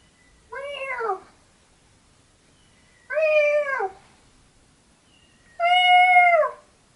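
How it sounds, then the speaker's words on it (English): A cat meows three times, each call drawn out and whining and spaced a few seconds apart, loud and close in a quiet indoor room. "Can you hear Betty meowing in the background"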